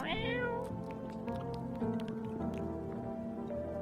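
A cat meows in the video game No, I'm Not A Human, one clear rising meow at the start followed by softer mews and small clicks over a faint, steady background hum.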